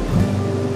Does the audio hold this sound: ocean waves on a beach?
yes